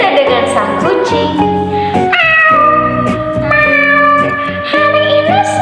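A human voice imitates a cat meowing in a storytelling performance, a series of drawn-out, pitched meows sung close and loud, one after another with short breaks.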